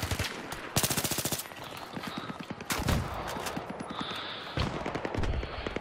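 AK assault rifle fire in Battlefield 3 multiplayer, several rapid automatic bursts, loud and close, separated by short pauses.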